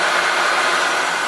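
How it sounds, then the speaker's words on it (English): A CNC mill spindle spins at a steady 3000 rpm, giving a loud, even, close whir that holds without change and has no talk over it. "And then the spindle, hit S, whatever speed you want, start, and then the direction."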